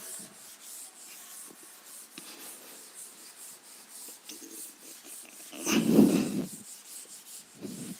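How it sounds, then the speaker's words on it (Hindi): A duster rubs writing off a classroom board in a steady, soft scrubbing that keeps going, with one louder burst of rubbing near the end. "इसको भी रब कर दें"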